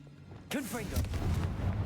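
Confringo fire spell blasting in the video game Hogwarts Legacy, a sudden burst erupting into a heavy, rumbling boom that lingers for about a second, with a voice over the start.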